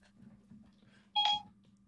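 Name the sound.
Siri voice assistant beep on a phone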